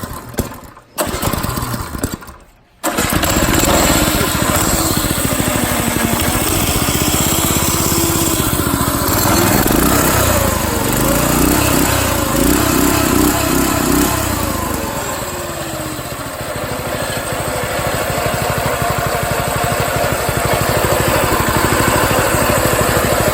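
A small go-kart engine with stock exhaust sputters briefly, cuts out, then fires up and settles into a steady, buzzing idle that keeps running loud and close.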